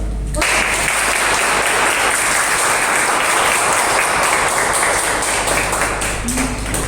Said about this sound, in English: you need a round of applause